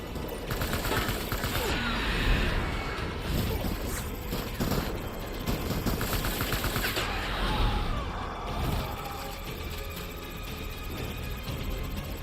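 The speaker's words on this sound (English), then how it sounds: "Open fire." Dense gunfire from a Death Stranding battle, rapid shots and machine-gun bursts crackling nonstop at close range across a noisy, layered combat soundscape.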